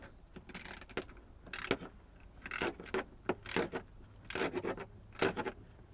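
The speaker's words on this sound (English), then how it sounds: "the ratchet wrench here. And we're just going to take this guy and drive him in to make this a little larger." A ratchet wrench driving a screw into a plastic dash cover on a 1999 GM truck, giving quiet, uneven rasping clicks in short bursts of a few strokes each, close up with no talking.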